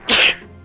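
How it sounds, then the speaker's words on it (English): A single sharp, loud sneeze bursts out close to the microphone and is over in a fraction of a second, with a faint tail after it. "I'm about to sneeze, but maybe not."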